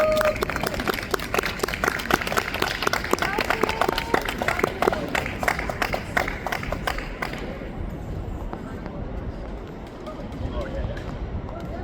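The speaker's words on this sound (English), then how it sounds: "Let's clap for Tim." An audience at a community speech event applauds as a speaker is introduced, with dense clapping from a crowd that fades to scattered claps and murmuring.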